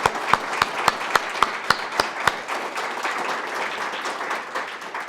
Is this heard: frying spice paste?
no